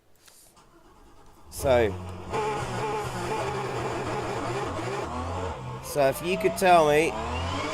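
A Porsche 911 GT3 Cup (992) racing engine at Laguna Seca in the rFactor 2 sim roars and revs continuously with rising and falling pitch through gear changes, loud under someone talking over it.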